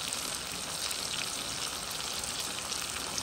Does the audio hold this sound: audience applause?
no